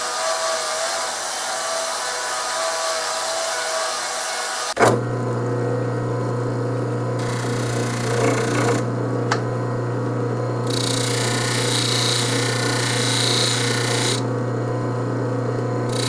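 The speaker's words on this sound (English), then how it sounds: "Now we're going to use a Dremel type tool and some polishing compound, and we're going to shine the inside of this" A Dremel-type rotary tool with polishing compound buffs the inside of a coin ring made from a Franklin half dollar. A steady, close motor whine starts abruptly after a few seconds of quieter background and runs on evenly to the end.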